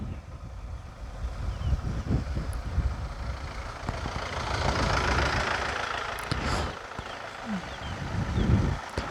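A tractor engine idles at a steady low rumble on a rural roadside, with wind buffeting the microphone throughout and brief louder gusts.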